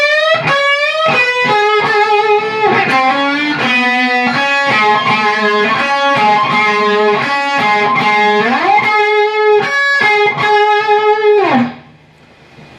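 A loud distorted electric guitar solo with fast, bright melodic runs and sustained notes, played continuously before cutting off abruptly near the end.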